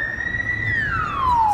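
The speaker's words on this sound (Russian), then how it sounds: "Скорая помощь." Wailing ambulance siren in the city of Surgut, a single strong tone gliding up slowly and then falling, loud and fairly close over steady street rumble, with no talk.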